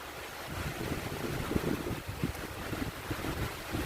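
Steady wind gusting and buffeting the microphone as rain approaches, a continuous roar with rumbling low bursts, heard alone.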